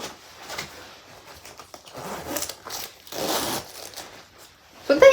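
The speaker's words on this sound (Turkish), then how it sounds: "Bir de iki fermuar dedim ya." Jacket zippers are pulled open and closed in several rustling, scraping strokes, close and moderately loud, with a sharper burst at the end.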